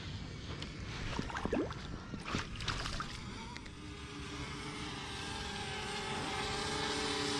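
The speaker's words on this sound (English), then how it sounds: "I got a drone hovering above me." A camera drone hovers overhead near a lake bank during spring bass fishing, giving a steady propeller whine and hum that holds throughout, fairly close, over outdoor noise with a few brief bumps early on.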